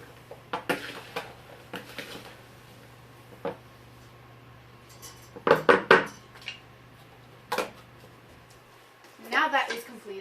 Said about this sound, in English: While tossing the apples, you want to turn your 2 spoons in opposite directions to make so that there is optimal mixing